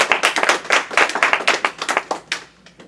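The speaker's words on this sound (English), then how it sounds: "So let's give Mike a round of applause." Brief burst of audience clapping for an interview guest, a small group of hands clapping quickly and close by before tapering off.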